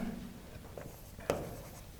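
Pen or chalk writing by hand during a grammar lesson, a soft continuous scratching with a sharper tap near the middle, no talking.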